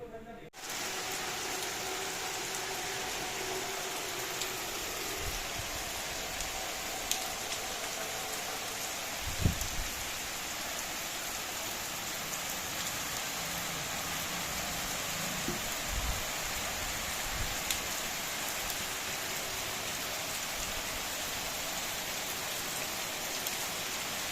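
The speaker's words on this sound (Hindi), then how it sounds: "अभी गाइस दिखाऊंगा कि बाहर कितनी तेजी से बारिश हो रही है" Heavy rain pouring outside during a monsoon day, a dense, constant roar of water on surfaces that holds steady throughout, with a couple of brief dull knocks.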